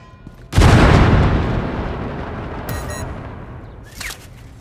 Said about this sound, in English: Dropping a frag.